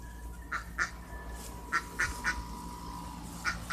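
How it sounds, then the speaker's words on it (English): Ducks quack several times in short separate bursts, fairly close and clear over a steady low outdoor hum. "Those two black ducks over there is Sadie and Darklin"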